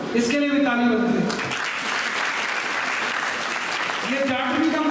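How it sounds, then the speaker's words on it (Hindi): An audience at a political rally applauds loudly and continuously, the clapping spread across the whole stretch as a dense roar while someone shouts over it from a stage at the start and end. "इसके लिए भी ताली बजती है।"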